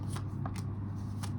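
Tarot cards being shuffled by hand, quick crisp riffling bursts close up over a steady low background hum.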